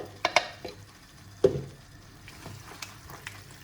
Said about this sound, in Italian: mescoliamo bene e facciamo finire di cuocere la pasta.